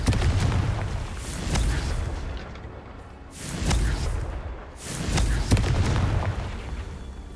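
Blasting spell explosions in the Hogwarts Legacy video game, three loud booming bursts each followed by a rumbling decay, spaced a couple of seconds apart.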